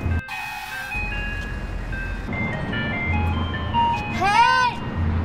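An ice cream truck's tinny jingle plays throughout, joined by a voice and people talking over it, with a rising, warbling chime near the end and the low hum of the vehicle beneath.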